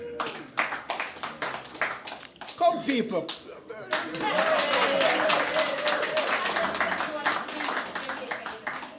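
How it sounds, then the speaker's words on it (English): Scattered clapping from a town hall meeting audience at the Jamaica High Commission, starting thin and swelling into fuller applause, with someone speaking briefly over the start. "That deserves a round of applause."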